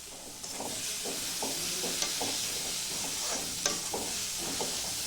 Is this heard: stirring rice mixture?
yes